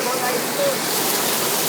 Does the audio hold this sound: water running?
yes